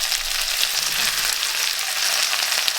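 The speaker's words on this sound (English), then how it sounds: "our pumpkin, give them a little stir around" Beans, peas and pumpkin fry in a pan and are stirred, giving a steady, close, dense sizzle with faint scraping throughout.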